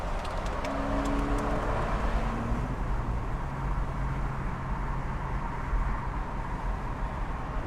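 A Porsche 911 Carrera S convertible (991) cruises at speed on the road, a steady engine drone with rushing wind and tire roar, recorded from inside.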